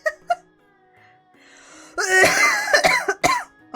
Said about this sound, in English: Coughing. Sneezing. Allergies getting to me.